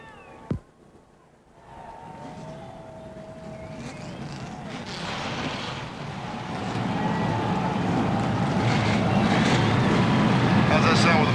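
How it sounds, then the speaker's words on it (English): NASCAR race car engines start up at Talladega, beginning with a sharp click followed by a broad roar that swells steadily louder and fuller across the clip. "Drivers, start your engines."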